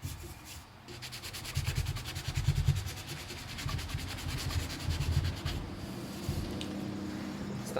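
Hand sanding a wooden Greenland paddle with 180 grit sandpaper: close, rhythmic back-and-forth rasping strokes in quick succession, steady and moderately loud throughout.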